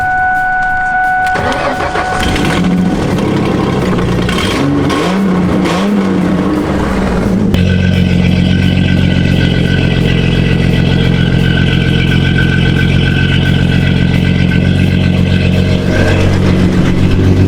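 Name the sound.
V6 Ford Mustang engine starting and revving after a year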